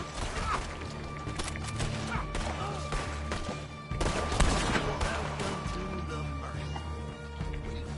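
Rapid video game gunfire with bursts and explosive thuds crackles and booms continuously, with a player talking over the action.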